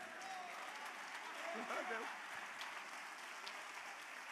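Distant, faint applause from a church congregation during a sermon, a soft steady patter of clapping with a brief voice or tone rising faintly in the middle.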